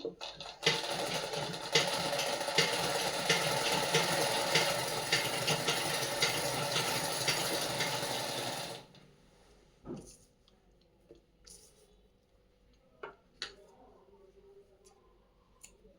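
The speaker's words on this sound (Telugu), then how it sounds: "నేను ఇంకా కొంచెం కుట్టి చూపిస్తాను మీకు ఎలా ఫినిషింగ్ వచ్చింది అనేది" Close and steady, a sewing machine runs for about nine seconds while stitching a saree fall, then stops, leaving a few scattered clicks and handling noises in a quiet room.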